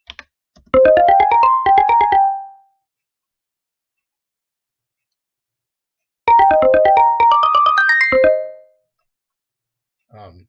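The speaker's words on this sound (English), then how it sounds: "for this pattern I used harmonics in Fruity DX10" Fruity DX10 synth in FL Studio playing its harmonics preset: two bright, bell-like melodic phrases of quick plucked notes, the second a few seconds after the first, each ringing alone against silence.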